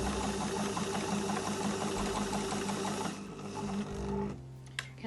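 A domestic sewing machine stitches a folded fabric Christmas napkin in a fast, steady, close-up rhythmic whirr, then slows and stops near the end, leaving a short quiet pause and a small click.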